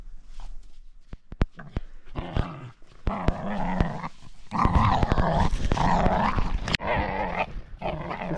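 A puppy on a sailing boat growls and yips in bursts, with scuffling and thumps as it tugs at a rope, mostly loud and close with short pauses.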